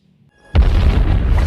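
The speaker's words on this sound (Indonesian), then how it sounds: "8 detik sebelum bom meledak, Ipkish datang dan menelannya, dan seketika bom tersebut meledak di perut Ipkish." A cartoon bomb swallowed by a creature explodes inside its belly: after a faint quiet lead-in, a sudden loud booming blast hits and a dense roaring rumble sustains to the end.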